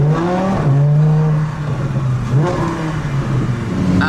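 An Italdesign Zerouno supercar idles and creeps out of a paddock in slow supercar traffic, its engine a loud, steady low drone that rises slightly in pitch with light revving.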